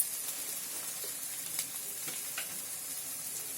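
Spice paste frying in a pan for chole, a soft, steady hiss and sizzle with faint occasional crackles and light stirring, fairly quiet and without voices.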